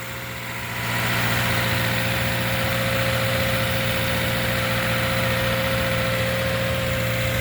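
A 2014 Subaru Outback with the 2.5-litre boxer engine idles nearby, a loud steady hum with a low droning pulse that settles slightly higher after the first second and holds evenly.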